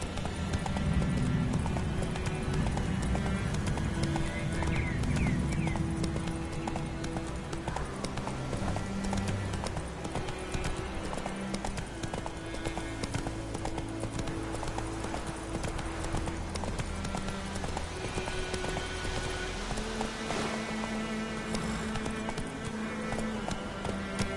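Horse hooves galloping in The Witcher 3 video game, a fast, steady clip-clop rhythm that runs throughout with a game soundtrack underneath, plus faint sound effects near the end.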